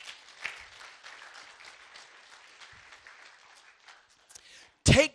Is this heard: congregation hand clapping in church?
yes